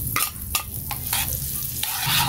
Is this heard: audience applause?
no